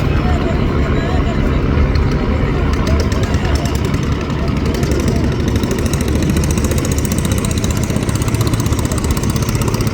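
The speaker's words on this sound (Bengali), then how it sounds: "ব্যাক গিয়ার দিয়ে ছেড়ে যাচ্ছে কুয়াকাটা দুই লঞ্চ" A passenger launch ferry in Bangladesh reverses away from the dock at Eid time, its engine droning loud and continuous with rumbling low tones, amid a busy crowd and a voice talking over it.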